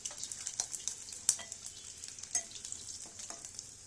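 Eggplant pieces fry in a pan, a quiet steady sizzle broken by scattered crackles and pops, with a few sharper ticks of a utensil against the pan.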